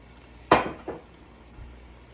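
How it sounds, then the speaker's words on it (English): Red wine splashes into a hot pot roast pan with tomatoes, giving a short loud burst of sizzle and clatter, a second smaller surge, then quiet simmering. "I'm going to add in about a cup of red wine"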